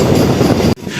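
Passenger train pulling into Kovvur station in Andhra Pradesh, a dense steady rumble of wheels and carriage noise that cuts out abruptly near the end and then resumes more quietly.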